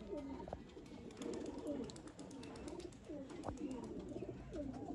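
Soft, repeated cooing of pigeons, several rolling calls in a row, heard fairly close over faint background noise.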